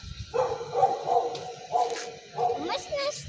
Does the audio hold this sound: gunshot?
no